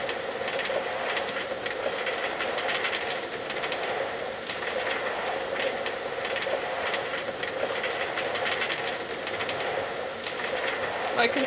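A minecart riding along rails in a video game, giving off a continuous rattling rumble that stays even and steady throughout a long ride.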